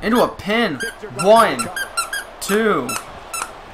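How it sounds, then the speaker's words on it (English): A dog's squeak toy squeaking in a rapid series of sharp, close, pitch-bending squeals, several in quick bursts, while a voice talks alongside. "Dunks has moved into my lap with his squeak toy."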